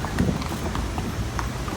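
Horse hooves clip-clop in a quick, steady rhythm on the road as the animal pulls a calesa carriage in Sevilla, with faint background noise and no clear talking.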